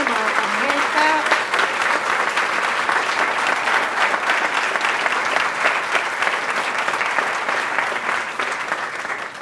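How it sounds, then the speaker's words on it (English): A crowd at an outdoor groundbreaking ceremony for a new workforce center building breaks into sustained, loud applause, with a brief voice heard at the start. "Please give him a hand clap."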